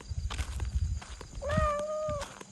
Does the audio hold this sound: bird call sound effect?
no